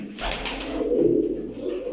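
A lone pigeon coos close by in a low, rolling murmur that runs steadily through the moment, with faint rustling around it.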